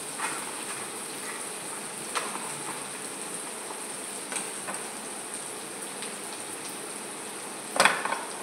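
Onion sizzling in a pan with a little salt, a steady broadband crackle and hiss held close and even, dotted with a few sharper pops.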